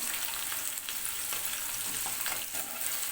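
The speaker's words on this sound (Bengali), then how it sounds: "আলু আর রসুনটা কিছু সময় নাড়াচাড়া করে নিয়েছি" Potato and garlic fry in a pan with a steady, dense sizzle, and soft scraping stirs break through now and then. The sound is close and continuous, and no one talks.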